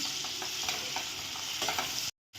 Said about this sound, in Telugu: మనం ముందే కట్ చేసి పెట్టుకున్నాం కదండి ఆనియన్స్, చిల్లీ పీసెస్ అండి. 2 మినిట్స్ ఫ్రై చేయాలి.